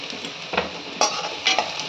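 Chicken sizzles in a hot pan for Pallipalayam chicken while a utensil stirs and scrapes it, the frying hiss steady and close with several louder scraping strokes and no talk.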